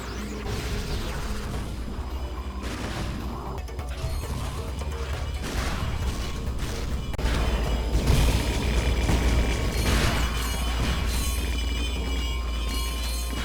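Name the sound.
Bouncer weapon firing in Ratchet and Clank: Going Commando, a video game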